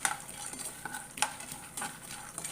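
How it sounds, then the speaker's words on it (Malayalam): Peanuts roast in a pan while a spoon stirs them, giving a fast series of light scraping clicks and rattles over a faint sizzle. "കപ്പലണ്ടിയും റോസ്റ്റ് ആയിട്ടുണ്ട്."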